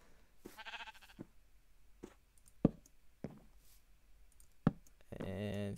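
A video game sheep bleats: a short bleat early on and a longer one at the end, spaced out among sharp clicks and knocks, with quiet talk in between.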